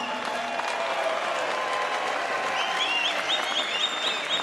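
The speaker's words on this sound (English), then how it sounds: "So round of applause for both fighters, come on." Arena crowd applauding both fighters after a main event bout that went the distance, dense steady clapping sustained throughout with some whistles and cheers near the end.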